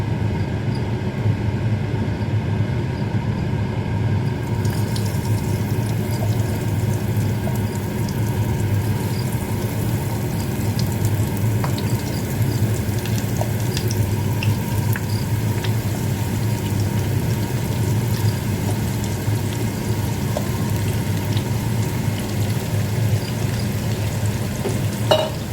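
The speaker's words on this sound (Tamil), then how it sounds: "சோயா மீட்டை போடுறேன்." Soya meat, Jaffna style, fries in hot oil with a steady, dense sizzle that holds unbroken and fairly loud for the whole stretch, with no talk over it.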